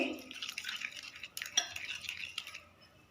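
Fish pieces being mixed with carom seeds, cumin and lemon juice in a bowl, a close, wet clicking and squelching of stirring with a utensil tapping the dish, steady throughout.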